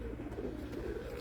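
Pigeons coo at a rooftop pigeon loft in Hafizabad, a steady low murmuring over constant background noise, with no speech.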